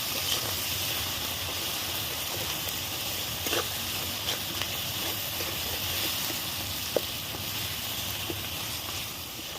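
Spice paste of ground cumin and dried red chilli powder frying in a pan, a steady close sizzling hiss throughout with a few faint clicks of stirring.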